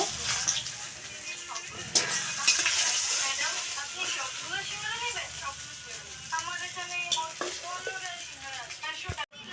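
A rohu fish head frying in oil and being turned over in the pan, a steady sizzle with clattering stirs and scrapes, heard under someone speaking throughout.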